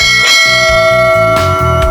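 Notification bell sound effect rings out loudly, a bright bell tone with long sustained overtones, struck once near the start and again partway through over a rhythmic low backing.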